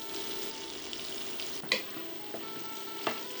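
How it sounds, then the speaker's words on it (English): Carrots, peppers and onions sweat in a pan with a soft, steady frying hiss, broken by two clear clinks of a utensil against the pan. "add the rest of the aromatics, the carrots, peppers, and sweat these as well"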